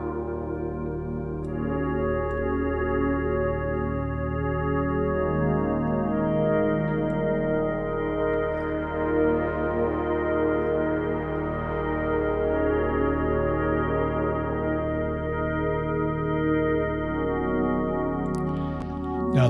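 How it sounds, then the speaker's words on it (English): Sustained chords from a macro oscillator in a modular synth, fed by a Turing machine sequencer and split into dry and two delay paths, form a steady, rich harmonic drone with shifting tones and faint ticks. "or music thing modular Turing machine going into a macro oscillator that's playing chords"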